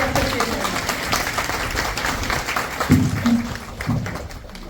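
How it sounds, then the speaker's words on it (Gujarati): An audience at a club area meeting stands and applauds to honour a guest, with a ragged patter of clapping that swells and fades. Speech and a few louder thumps break through it. "આપણે સૌ આપણા સ્થાન પર ઊભા રહી તાળીઓના ગડગડાટથી તેમને સન્માનિત કર્યું છે"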